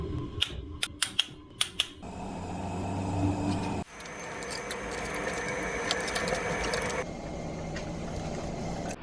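Ratchet wrench angle-tightening a bolt on a Land Rover TDV6 engine, starting with a few quick clicks, then a steady mechanical whirring and grinding that runs on for several seconds at close range.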